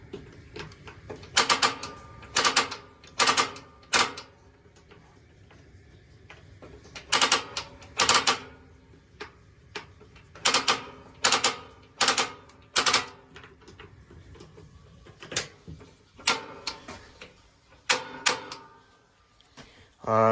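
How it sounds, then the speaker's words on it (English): Gas stove burner sparker igniter in a 2010 Jayco Jay Flight 23FB travel trailer, sharp rapid clicking in short bursts repeated many times, close and fairly loud with quiet gaps between the bursts. "then it does have a sparker"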